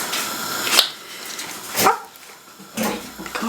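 Dogs bark in short, separate bursts, three distinct barks spaced about a second apart, fairly close and loud over a steady hiss of background noise.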